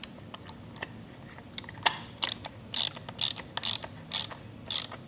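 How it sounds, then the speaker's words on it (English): A ratcheting tool tightens the 17 mm oil drain plug on a Kawasaki Ninja ZX6R, giving short bursts of sharp clicking near at hand after a quiet start. "Just gonna go ahead and tighten it with our tool."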